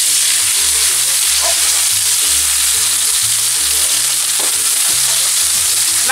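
Cherry tomatoes hit hot garlic-infused oil with a loud, continuous sizzle and crackle that fills the pan steadily, with occasional stirring clinks, no voices.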